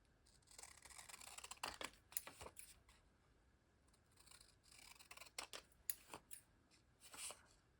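Scissors cutting paper for a collage, several bursts of crisp snipping close up with handling noise between them, quiet and without talking.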